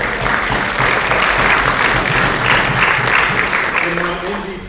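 Auditorium audience at a high school athletic awards assembly clapping steadily and fairly loudly, then fading toward the end as voices begin to take over.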